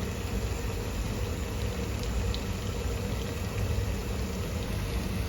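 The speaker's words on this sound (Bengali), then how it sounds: "সুন্দরভাবে আস্তে আস্তে ভেজে নিতে হবে।" Potato balls frying gently in hot oil, a steady, even crackling hiss with a low bubbling rumble that holds unbroken from start to finish, no voices.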